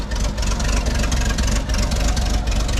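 A 1965 Dodge Power Wagon engine idling steadily up close, a continuous low rumble with a slightly uneven, loping pulse and no voices over it.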